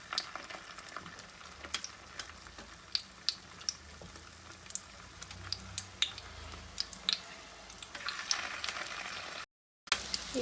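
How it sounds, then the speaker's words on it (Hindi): Chicken shami kebabs fry in hot ghee with a continuous close crackle and sizzle, punctuated by sharp pops. The sound cuts out for a moment near the end. "अब इसके अंदर ये मैं शामी डाल दूंगी और हम इसको गोल्डन ब्राउन होने तक"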